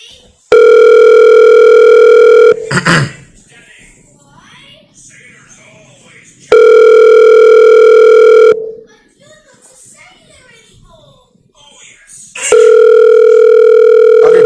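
Outgoing phone call ringback tone, three long steady buzzing rings separated by pauses, loud and close, with people talking quietly in the gaps between rings.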